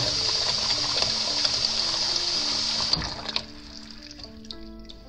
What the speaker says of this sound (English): And pour the water into the rice in the rice cooker.